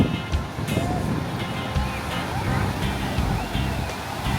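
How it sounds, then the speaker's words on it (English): Small beach waves rolling onto the shore at Lookout Cay, Lighthouse Point, a continuous washing surf under wind and a speaking voice. "They do have some waves, but they are little beach waves"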